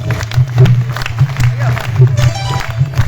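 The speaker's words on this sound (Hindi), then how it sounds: "तालियां बजाओ" Crowd clapping and cheering at a live bhajan performance in Birgunj, Nepal, a dense burst of applause with excited voices and a steady low hum from the sound system throughout.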